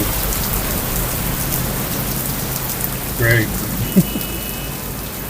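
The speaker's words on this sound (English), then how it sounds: "Raining." Steady rain hisses throughout, with a brief spoken word and a small knock partway through.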